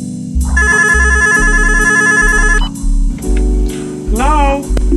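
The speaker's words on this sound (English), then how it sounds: "Odell, get the phone" A telephone rings in repeated electronic bursts up front in a slowed, remastered R&B song, over deep pulsing bass, and a voice slides in near the end.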